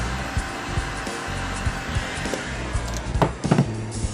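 A heat gun runs steadily as it warms old plastic and glue on an aging shelf, a continuous airy whoosh with a few faint knocks and taps near the end.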